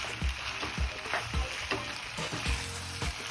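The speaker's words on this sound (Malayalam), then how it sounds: "നമുക്കിത് നന്നായിട്ടൊന്ന് മിക്സ് ചെയ്ത് കൊടുക്കാം." Chicken noodles with soy and chilli sauce are stirred in a hot pan, a constant sizzle broken by rhythmic scraping strokes roughly every half second, close and clear with no talk.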